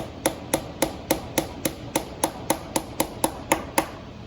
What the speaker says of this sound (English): just tap them down in there. And even maybe a claw hammer would be fine